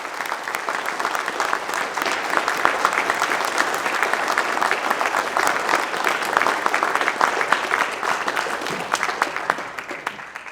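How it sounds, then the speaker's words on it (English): A crowd at a Masonic center Veterans Day program applauds veterans and service members, loud, dense clapping that holds steady for about ten seconds before easing off slightly at the end. "If we can give a round of applause for our veterans and members of service."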